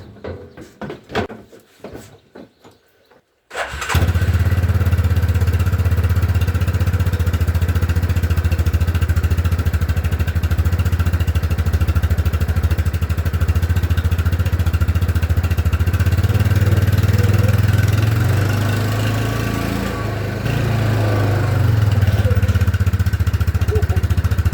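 A Yamaha side-by-side with a newly installed clutch kit and a carburetor in need of a tune-up starts after a few brief clunks, then runs steadily and loudly up close, with a slight engine swell near the end.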